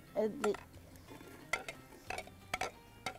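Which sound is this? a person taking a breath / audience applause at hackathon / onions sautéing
onions sautéing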